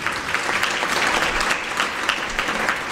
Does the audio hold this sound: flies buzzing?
no